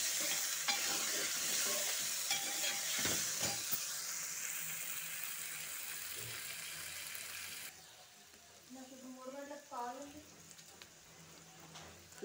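Cluster beans frying in a pan with salt, stirred with scraping sizzle for about eight seconds, then a quieter stretch with faint clinks and a brief voice-like murmur.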